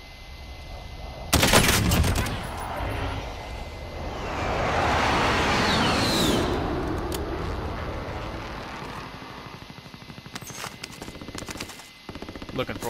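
Bursts of automatic gunfire in the Call of Duty: Warzone battle royale shooter, with a loud, close volley early on, sustained rumbling combat noise through the middle, and sharper scattered shots near the end.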